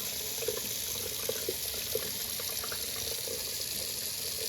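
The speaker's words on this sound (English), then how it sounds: "Okay, let's go wash it off." Tap water runs steadily over a quartz or agate rock held beneath it, a continuous close hiss and splash with small irregular spatters as the stone is turned, with no talk.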